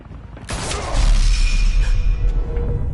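A loud burst of gunfire in the Batman Telltale video game, a sharp crack followed by a heavy crashing, rumbling blast that rings out and stays loud for the rest of the stretch.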